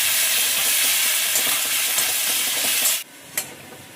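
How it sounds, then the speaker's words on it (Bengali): Garlic sizzles with dried red chillies in hot oil in a pan, a close, loud, steady crackle for about three seconds that suddenly drops away, followed by a single quick clink. "শুকনো লঙ্কা দিয়ে আমি রসুনটাকে ভেজে নেব।"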